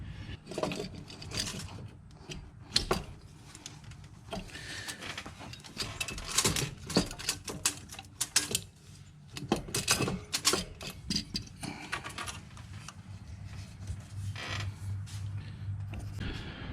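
Working a loose dump pipe free from the turbo of a Mitsubishi Evo produces repeated metallic creaks, scrapes and knocks in irregular bursts, close by and moderately quiet, with no one speaking.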